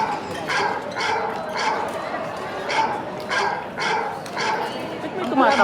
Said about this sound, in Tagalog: Ba't may tumatahol?